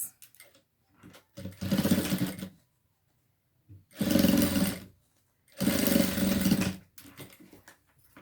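A sewing machine stitches bias binding onto a children's backpack, running in several loud mechanical bursts of about a second each, separated by silent pauses and a few shorter, softer runs.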